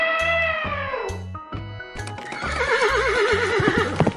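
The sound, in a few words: horse neighing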